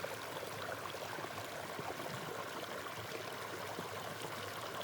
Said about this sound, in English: All the little creeks are flowing somewhere right now.